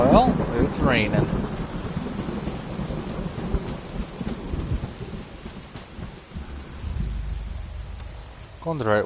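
Rain pours steadily while low thunder rolls and rumbles in a video game, with a brief voice-like sound at the start and end.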